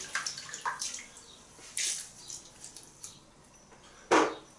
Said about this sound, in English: we're going to take the same brush, just going to rinse it clean